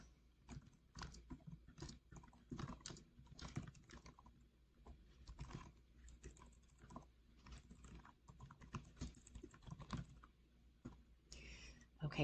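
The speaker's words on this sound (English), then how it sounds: "and then I'm going to type the content of the email." An email being typed on a computer keyboard, rapid irregular key clicks in close bursts with brief pauses, fairly quiet and continuous throughout.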